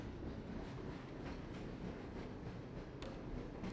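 Train ride in the Half-Life video game: a steady low rumble of rolling rail cars with faint clattering and a brief screech, continuous and fairly quiet, no speech.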